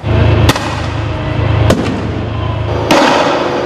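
Three loud fireworks bangs burst out at uneven intervals over a constant noisy rumble of crowd and street sound during a street protest where police clashed with demonstrators.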